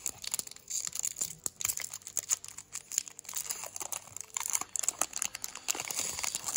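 A Yu-Gi-Oh booster pack's foil wrapper is torn open and crinkled, a close, continuous run of crackly rustling and tearing with no voice over it.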